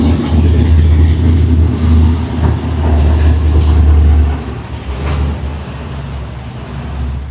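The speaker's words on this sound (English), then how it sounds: "We got a big block Chevrolet going by." A big block Chevrolet passes at a muscle car show, a loud, deep engine rumble that holds strong for about four seconds, then eases as it moves away.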